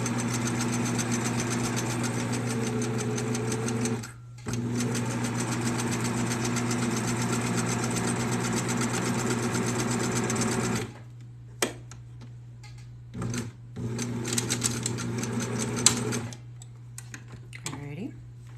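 A sewing machine stitching a pink and gold tube top runs in long steady bursts with a fast mechanical hum, stops briefly, then gives way to short stitching runs and clicks, with no talking.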